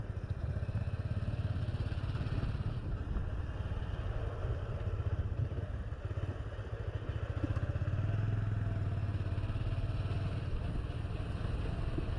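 Motorcycle ridden up a winding mountain road toward Ambuluwawa in Sri Lanka, giving a steady, fairly quiet engine drone mixed with wind and road rumble, continuous throughout with no talking.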